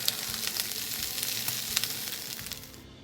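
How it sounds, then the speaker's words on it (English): Butter sizzles and spits steadily in a hot pan, a bright crackling hiss with small pops that fades slightly toward the end, with no talking. "To diversify the fat profile, we're going to add butter."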